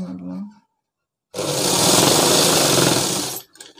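A sewing machine stitches seams on a shirt in one loud, steady run of about two seconds, preceded and followed by a person talking nearby.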